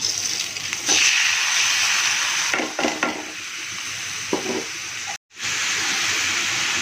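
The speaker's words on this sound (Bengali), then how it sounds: "এটাকে আমি নেড়ে চেড়ে কিছুক্ষণ ভাজবো" Broken rice and flaxseed fry in a hot pan for a traditional Bengali village breakfast, giving a steady close sizzle with scraping stir strokes and a brief silent gap near the end.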